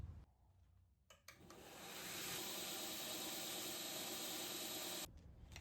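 A belt grinder grinds a hand-forged steel chisel, a loud steady whining hiss that ramps up and holds for several seconds before cutting off, with no talk.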